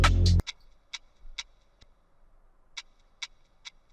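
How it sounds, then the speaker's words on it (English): Pitched-down 2-step hi-hat with a light reverb tail, a sparse pattern of soft ticking hits after a brief loud burst at the start, in an R&B beat. "Then we get to this second drum section where I did add a 2-step hi-hat."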